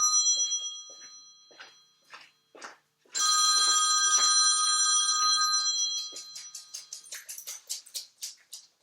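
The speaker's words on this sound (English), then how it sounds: "I got to turn that phone off." An electronic telephone ringtone plays loudly and steady for about three seconds, preceded and followed by short tapping and clattering sounds.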